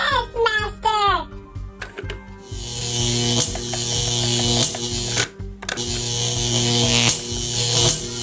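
Toy monster lab from the Treasure X Mega Monster Lab set with its lever pulled down, setting off a loud electric buzzing hum with clicks and rattles, right after someone speaks.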